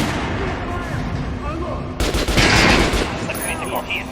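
Gunfire aimed at an armored training dummy in the video game Metro Last Light Redux, loud bursts of shots stacked in rapid succession, close and dense, with a voice speaking over them.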